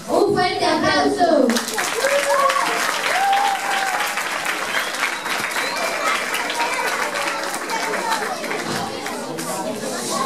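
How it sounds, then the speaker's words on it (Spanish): A school audience claps loudly for third-grade children acting out evaporation in a water-cycle play, dense applause mixed with crowd chatter and children's voices that carries on throughout. "¡Un fuerte aplauso!"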